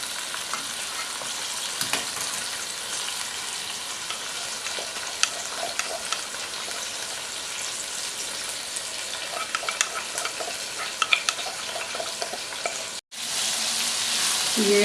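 Chopped tomatoes and crushed garlic fry in a pot with a steady, close crackling sizzle, with scattered scraping stirs and clicks on top, and no voices heard.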